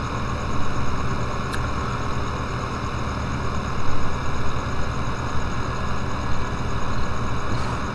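A tractor engine in Farming Simulator 2015 drones steadily at a slow drive, a constant loud low rumble with a brief click partway through and no talking.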